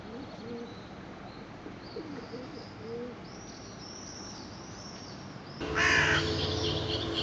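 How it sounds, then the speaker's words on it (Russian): A crow caws in a city street setting with pigeons cooing nearby, its calls rising over a background of birdsong and outdoor hum, with a louder burst of noise near the end. "Опять ты каркаешь."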